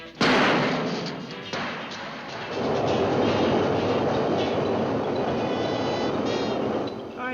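A subway train roars past close by, starting with a sharp burst, then a loud sustained rumble with faint rhythmic clatter.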